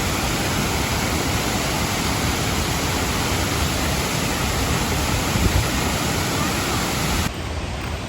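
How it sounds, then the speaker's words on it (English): A constant, powerful roar of falling water from a waterfall near Luang Prabang, Laos, fills the air, dense and unbroken throughout, loud and close. "That was the most beautiful waterfall I've ever seen"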